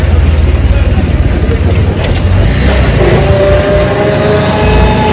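An auto rickshaw engine drones loudly and steadily while riding in Prayagraj during the Maha Kumbh Mela, a close, continuous rumble.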